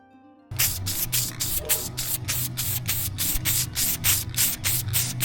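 A spray can coats an aquarium in a rapid series of short, loud hissing bursts that come in steady rhythm up close after a brief quiet start.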